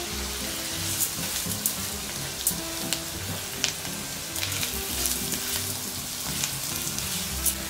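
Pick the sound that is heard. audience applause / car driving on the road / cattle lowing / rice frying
rice frying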